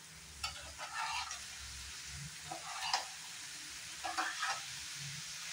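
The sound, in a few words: boiled soybeans and green peas frying in a pan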